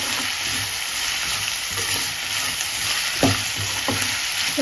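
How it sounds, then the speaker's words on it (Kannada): Onions fry in oil in a pan for chitranna, a steady close sizzle broken by a few soft scrapes of a spatula stirring. "ಸ್ವಲ್ಪ ಈರುಳ್ಳಿ ಚೆನ್ನಾಗಿ ಫ್ರೈ ಹಾಕ್ತಿರ್ತೀನಿ."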